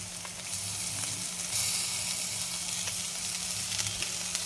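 Ginger garlic paste fries in a pan for a fried jowar idli masala. It gives a steady, close hiss and crackle that continues throughout, with a few faint clinks from stirring and no talking.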